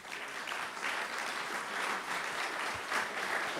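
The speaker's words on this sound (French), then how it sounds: "Merci beaucoup Dominique, on peut l'applaudir." Conference audience applauds after a keynote talk, a steady wash of clapping from a large room that stays even throughout, with a faint voice underneath.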